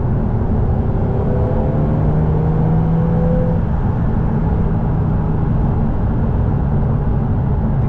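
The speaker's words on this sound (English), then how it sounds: "The gearbox just really lags, and it is a pain." Cabin drone of a Lotus Emira with the four-cylinder engine and automatic gearbox, which lags on shifts: a steady, loud engine and road rumble with a faint whine that slides gradually in pitch, no clear gear change standing out.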